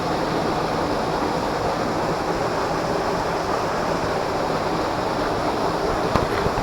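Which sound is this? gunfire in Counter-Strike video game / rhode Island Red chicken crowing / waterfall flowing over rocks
waterfall flowing over rocks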